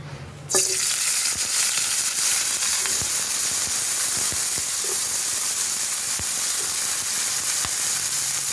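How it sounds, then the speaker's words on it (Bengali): Broccoli drops into hot oil in a kadai, left from frying fish, and sets off a sudden loud sizzle that continues as a dense, steady hiss with scattered pops and clicks, with no talking. "দিয়ে বকুলিগুলো এখন ভেজে নেবো একটু"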